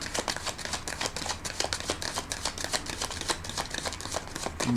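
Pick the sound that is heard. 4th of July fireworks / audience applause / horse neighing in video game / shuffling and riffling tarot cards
shuffling and riffling tarot cards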